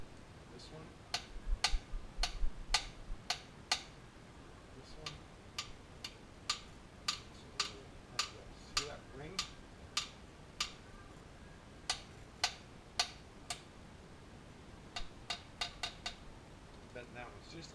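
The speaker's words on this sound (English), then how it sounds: "Here's where you can hear that ring when a valve is actually hitting in the block properly." Engine valves of a 1936 International flathead being lapped into the block, giving sharp metallic rings and clicks repeated at a steady pace, fairly faint against a quiet shop background.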